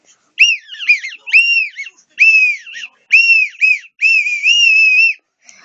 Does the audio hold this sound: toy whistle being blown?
yes